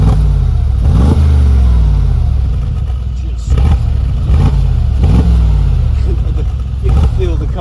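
Mercedes G63 AMG twin-turbo engine revving with the exhaust in sport mode, several loud, close blips that rise and fall in quick succession over a constant deep rumble.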